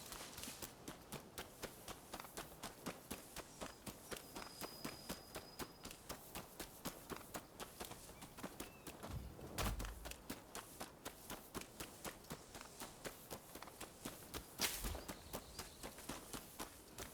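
Steady, rhythmic clip-clop of horse hooves in the video game Rise of the Ronin, quiet but continuous at an even trotting pace throughout.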